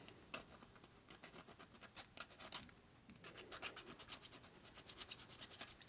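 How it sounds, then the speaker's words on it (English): A fingernail file, also used as a ring file, rasps against metal in a shop in short, quick strokes, with a pause midway before the rhythmic scraping resumes, close and fairly quiet. "So I always carry my fingernail file with me."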